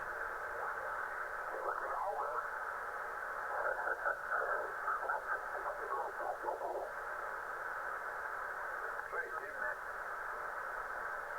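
Steady ham radio receiver static hisses throughout, with faint warbling, garbled signal fragments drifting in and out of the noise.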